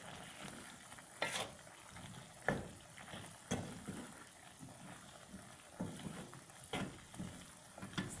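Mixed vegetables with spices being stirred in a pan, giving a soft sizzle under a series of irregular scraping stirs spaced a second or so apart, fairly quiet and close with no talking.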